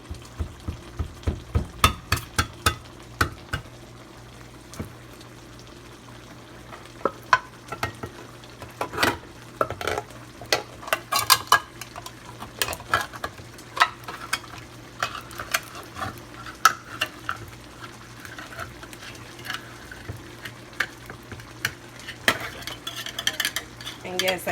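Metal food cans being opened by hand without a can opener while making chili, with repeated scraping, clinking and prying sounds in irregular bursts at close range and no talk.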